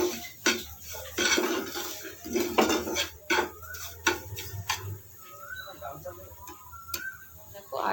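Banana halwa frying in a pan with clinking utensil strikes and scraping, sharp clattering hits spread through the stretch, with a voice talking intermittently early on.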